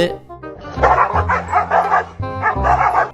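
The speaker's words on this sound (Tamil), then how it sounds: "ஒரு எலும்பு துண்டுக்கு இந்த ரெண்டு நாய் சண்டை போட்டுட்டு இருக்கும்போது" Two dogs fight over a bone in a loud, close scuffle, with repeated barks, yips and whimpers in an irregular burst, then a short pause and more yelping.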